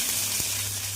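Ghatkol leaf paste fries in a wok with a steady, close sizzle, and a single spatula scrape cuts through partway.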